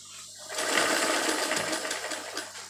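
A sewing machine stitches a zigzag embroidery pattern, a rapid mechanical whirring that starts abruptly after a brief quiet moment and runs steadily on its own for a couple of seconds.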